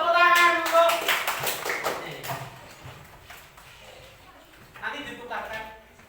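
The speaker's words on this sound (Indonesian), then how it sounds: "Tepuk tangan untuk." Hands clap in a classroom lesson on coding and artificial intelligence, a quick burst of claps near the start that fades under overlapping voices, with more talk rising again toward the end.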